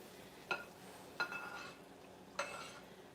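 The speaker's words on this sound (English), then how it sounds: "So now I'm going to take these roasted tomatoes and just pop them right into the pan." Roasted tomatoes tipped into a pan for shrimp alfredo and stirred, giving three short scraping, clinking stirs over a faint background sizzle, close by with no talk.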